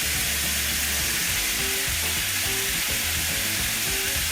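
Garlic and onions frying in a pan for stuffed Italian-style eggplant filling give a dense, steady sizzle with faint scraping of stirring underneath, close and constant with no one speaking.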